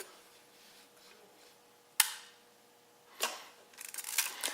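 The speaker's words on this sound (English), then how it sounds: "Again, the shutter speeds seem to work." Quiet room, then a sharp mechanical shutter snap of a Minolta A5 35mm film camera, a second click about a second later, and a run of softer clicks and rattles toward the end.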